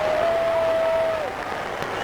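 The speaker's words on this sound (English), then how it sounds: "Listen to the crowd." A baseball stadium crowd roars for Pete Rose at a 1985 Chicago Cubs game: a loud, dense wash of cheering and applause that holds steady, then eases slightly, with no talk over it.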